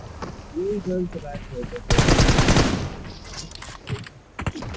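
A rapid burst of gunfire in BGMI rattles for about a second. Clicking keys and brief talk can be heard around it.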